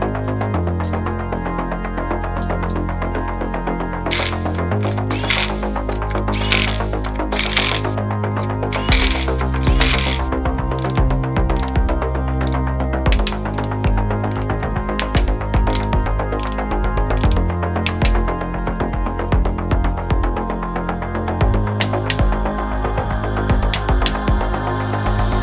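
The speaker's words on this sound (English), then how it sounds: "now you're honing it with that amount of torque supplied" Nissan RB26DET engine cylinders being honed with a torque plate bolted on, a steady loud mechanical whir and throbbing grind with shifting tones and rattling strokes, continuous up close and without talk.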